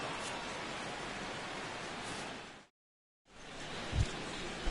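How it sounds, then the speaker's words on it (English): Steady broadband rain falls in a baseball video game on PS4, a dense continuous hiss that cuts out briefly to silence before resuming, with a faint low thump near the end. "as the rain continues to fall here"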